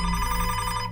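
A telephone rings in one loud, close, steady electronic burst of about a second, heard alone with nothing else around it.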